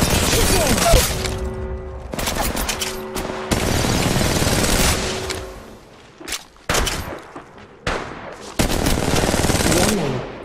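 Gunfire in the Apex Legends Mobile battle royale game, with bursts of rapid shots and sharp cracks broken by short pauses. A brief game voice line sounds over the shooting.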